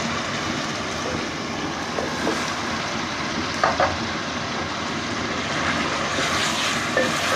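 Chicken frying and browning in a pot with cloves, black cardamom and bay leaves for biryani, a steady broadband sizzle that runs throughout, with a few faint clinks of stirring.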